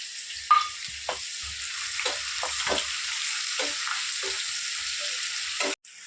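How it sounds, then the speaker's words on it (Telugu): An onion sizzles and fries in a pan for gongura prawn curry, a crackling hiss broken by repeated utensil scrapes and stirring clatter, steady and fairly close, ending with a brief louder clunk. "దీంట్లో కూడా ఒక ఉల్లిగడ్డ వేస్తున్నాను"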